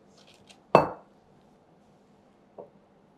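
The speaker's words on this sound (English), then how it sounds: "So I'm just going to tap this to get rid of any bigger air bubbles" A cake pan holding eggless chocolate oil cake batter is tapped on a kitchen counter, giving one sharp, loud metallic knock followed by a second, softer tap a couple of seconds later, with no talking.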